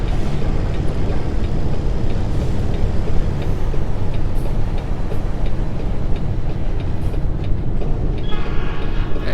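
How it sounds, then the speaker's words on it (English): A noisy train passes close by in American Truck Simulator, a loud, continuous rumble with rhythmic clicking of wheels on rail joints lasting the whole stretch, with a brief tonal whine near the end. "Sure is one noisy train there."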